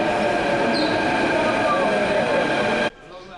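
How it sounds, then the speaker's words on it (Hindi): A Delhi metro train pulls into the station: a loud, steady, broadband rumble and rolling hum that holds for nearly three seconds, then cuts off abruptly into quiet. "ये मेट्रो आई चुकी है।"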